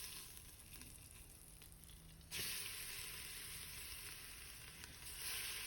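Meat tipped into a pot of deliberately burnt curry for Jamaican curry cow foot with butter beans, bursting into a loud, steady sizzle that jumps up sharply and holds, with faint stirring underneath.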